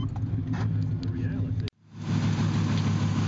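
A GMC 1500 pickup truck engine idles close by with a steady, low, rumbling drone that briefly cuts out midway before resuming.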